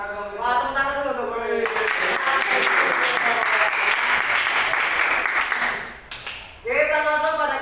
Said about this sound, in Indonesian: Wah, tepuk tangan dulu tuh.